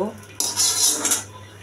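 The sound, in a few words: wok being placed on the stove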